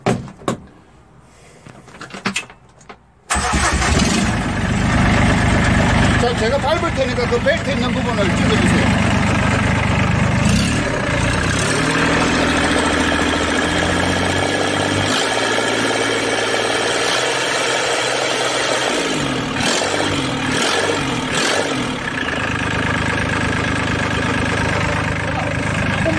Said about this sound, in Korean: 시동을 이렇게 해보도록 하겠습니다